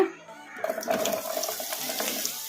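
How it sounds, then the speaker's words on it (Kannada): Sliced onions tipped into a hot kadai for a stuffed bitter gourd curry, breaking into a fairly loud, steady frying hiss after a brief quiet start. The sizzle continues to the end. "ಈಗ ಇವನ್ನ ಕಡಾಯಿಗೆ ಹಾಕಿ ಫ್ರೈ ಮಾಡ್ಕೊಂಬಿಡೋಣ"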